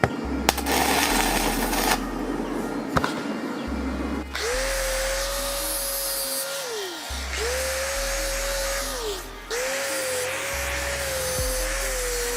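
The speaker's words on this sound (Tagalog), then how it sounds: "So i-grinder ngayon natin yan." An angle grinder works on brackets of a 1980s Yamaha DT125 two-stroke motorcycle during restoration, with a harsh, loud, gritty whine in bursts separated by brief pauses, some pitch dips as the disc bites into the metal.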